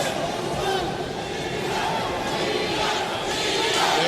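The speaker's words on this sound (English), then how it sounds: "There goes the crowd." A boxing crowd roars and cheers in a steady, dense wash throughout the David Diaz vs Erik Morales bout, with commentators talking over the noise.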